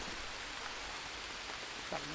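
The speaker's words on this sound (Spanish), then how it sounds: "ahora que está lloviendo esto aquí" Steady light rain patters continuously in the video game Green Hell, a soft even hiss with no distinct drops standing out.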